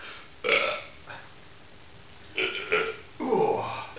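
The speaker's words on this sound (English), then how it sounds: "now we're going to see how many burps we can do in a minute" Several loud, close burps after drinking beer, during a one-minute burping contest: one short belch, then two more in quick succession, and a long, drawn-out final one.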